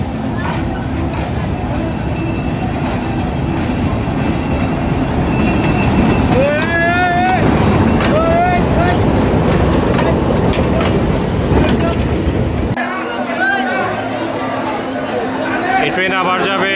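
A crowded local passenger train bound for Jaria rumbles along with steady clatter and squealing metal, under constant passenger chatter and voices close by.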